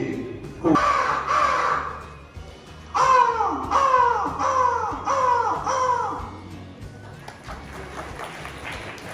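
A person imitates a crow at a senior citizens' association gathering: one loud call, then a run of five quick, rhythmic caws, followed by fainter scattered sounds.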